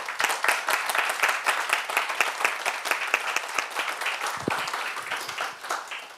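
A church congregation claps together for about six seconds, a dense and steady burst of many hands that stays loud and close throughout with no talking over it.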